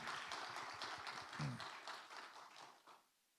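A church congregation gives a round of applause to God at a prayer meeting for reunification, a faint, dense patter of many hands that carries on steadily for about three seconds before quickly dying away.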